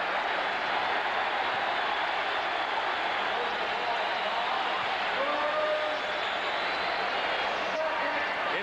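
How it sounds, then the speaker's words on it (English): Arena crowd at a 1982 Sixers–Celtics Eastern Conference Finals playoff game, a dense, sustained roar filling the space steadily throughout, with faint whistles and voices mixed into the wash. "Now listen to the crowd."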